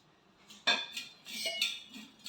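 Antique polished metal pots, including a large milk vessel, handled and knocked together, giving a few close metallic clanks and ringing clinks with short resonant tails amid soft handling noise.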